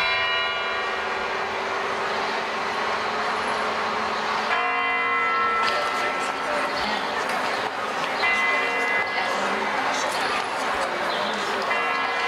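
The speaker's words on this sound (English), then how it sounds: "So this is the bell tower and the famous sounds important for all Russians." Church bells ring from a bell tower on Red Square in Moscow, a layered, sustained peal heard outdoors amid crowd murmur, with a brief change in the ringing midway.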